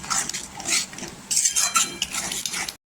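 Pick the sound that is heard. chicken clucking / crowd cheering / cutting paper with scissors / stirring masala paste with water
stirring masala paste with water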